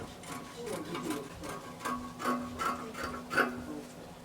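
Scissors snipping through dress fabric while cutting out the front neckline of a bubu dress, giving a steady series of close, crisp cuts about every half second over a faint room background.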